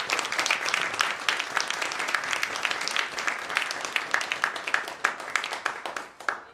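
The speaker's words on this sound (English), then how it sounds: "round of applause to our students" An audience at a high school concert applauds the students, lively overlapping claps with distinct individual hits standing out as the applause thins toward the end.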